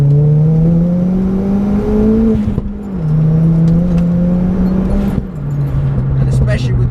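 Car engine held at high revs under hard acceleration through a bend, loud and close with a brief gear-change dip midway, a steady droning pitch that climbs and falls; someone talks over it throughout.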